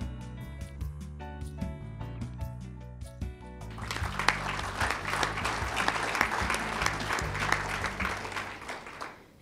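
Music plays briefly, then an awards-ceremony audience in a university agriculture and horticulture hall breaks into full, steady applause for an honored faculty member, the clapping continuing over lingering musical tones for several seconds.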